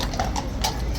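Hooves of a Blues and Royals cavalry horse clip-clop in a steady, close rhythm of several distinct strikes on hard ground, with faint background noise.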